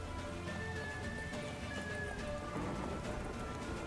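Horse hooves clip-clop rhythmically in The Witcher 3 video game, a steady trotting patter under dense in-game ambience and music, moderately quiet.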